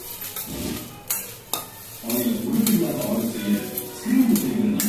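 Ingredients being roasted in a pan are stirred and scraped with a utensil, giving close, repeated scraping strokes and clinks over a soft sizzle, with no one talking.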